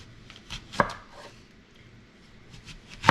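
A knife chops through a giant zucchini on a cutting board in a few distinct, crisp thunks spaced irregularly, close and clear, separated by quiet pauses, with no voices.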